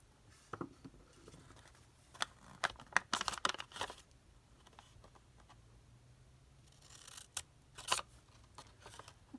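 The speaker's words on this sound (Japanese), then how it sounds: "この部分をハサミでカットします。" Scissors snipping through origami paper in scattered bursts of short, crisp cuts with small paper rustles between them, fairly quiet and close, with no voices.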